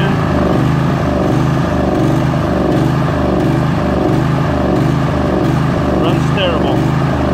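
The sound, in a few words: Briggs and Stratton 22hp OHV engine running badly, choke in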